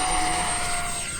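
An RC 70mm electric ducted fan F-16 jet flies past with a steady, loud, high-pitched whine. The whine holds a sustained tone and fades slightly toward the end, and no voices are heard.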